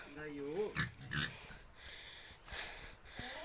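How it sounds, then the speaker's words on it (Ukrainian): Vietnamese pigs at a farmyard feeding time give loud squeals and snorting grunts in several bursts, close by, while someone talks over them. "Хтось казав, що в'єтнамські свині не кричуть. Ага, не кричуть. Ще як кричуть."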